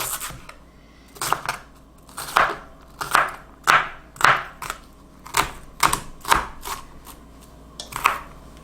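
A knife chops through an onion on a cutting board in about a dozen crisp, evenly spaced strokes, each a sharp close knock with a short crunch, with no talking.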